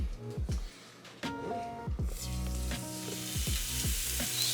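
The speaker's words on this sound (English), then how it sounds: "Start to sizzle them." Steady sizzling and crackling from steaks frying in tallow in a hot pan, with a few clanks and low knocks of cookware over it, fairly close and continuous.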